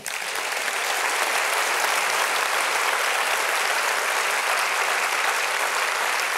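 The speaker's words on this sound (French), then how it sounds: "Je voudrais vous demander d'applaudir Vadim Cher." Sustained, dense applause from a theatre audience at a season presentation, loud and even throughout with no voices over it.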